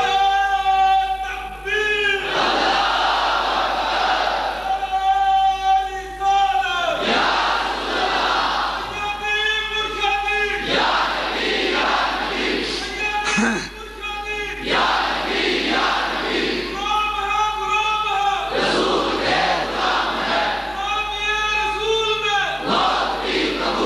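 A large crowd chants religious slogans in unison at a sermon gathering, loud repeated call-and-response bursts with brief pauses between them, voices massed and echoing.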